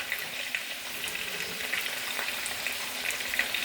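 Pimento pepper and diced carrots sizzle in hot oil in a pot for a rib pelau, a steady close frying hiss with faint crackles throughout and no talking.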